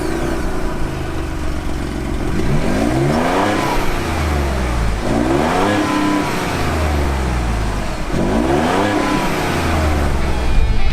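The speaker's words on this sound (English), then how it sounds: "Now, I want you to hear the exhaust note." Ford Bronco Raptor with front and rear lockers, exhaust note while revving: three rising-and-falling throttle sweeps, a deep close engine growl climbing in pitch and easing back, with a continuous low rumble between them.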